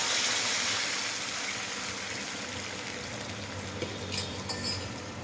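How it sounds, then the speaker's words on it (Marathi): Hot water poured into a pot of spices, dried red chilli and rice for biryani, a steady close pouring and bubbling wash with faint utensil clinks toward the end, no talking. "त्याच्या दुप्पट गरम पाणी घालायचं."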